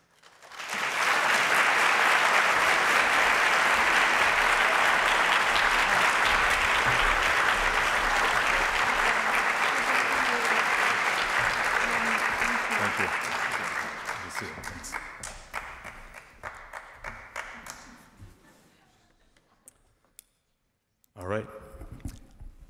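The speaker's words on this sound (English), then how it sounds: "applaud only twice tonight, at the end and now, as we welcome our candidates to the stage" Sustained audience applause welcomes U.S. Senate candidates to the stage at a 2024 televised debate in the Northwest. The clapping is broad and even, then thins and tapers away toward the end.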